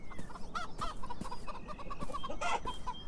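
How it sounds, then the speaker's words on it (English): Chickens clucking in the video game Beyond Eyes, a close, busy cluster of short repeated clucks and squawks overlapping in a steady, chattering rhythm for a few seconds, no voices over them. "those are chickens"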